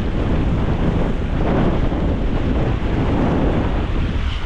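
Strong mountain wind buffeting the microphone, a loud continuous roar with gusty swells and no other sounds.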